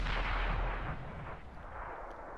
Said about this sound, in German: Shooty hat noch zwei Schuss drin